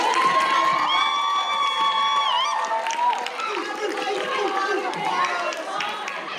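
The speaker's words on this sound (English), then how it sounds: "I would like to get a round of applause for EM and everyone" A convention crowd at a lip sync contest cheers and shouts, with high excited voices, whoops and some clapping, loud and sustained throughout.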